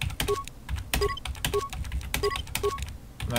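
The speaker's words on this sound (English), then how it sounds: "so you can hear all these keys tapping" Computer keyboard keys tap rapidly and unevenly at close range while someone plays Star Wars: Knights of the Old Republic 2, with faint game tones underneath.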